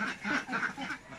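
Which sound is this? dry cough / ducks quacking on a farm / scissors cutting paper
ducks quacking on a farm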